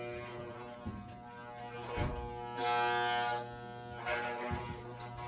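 Electric hair clippers buzz steadily at close range while trimming a fade during a self haircut, with a constant hum that swells louder as the blades catch hair in short bursts.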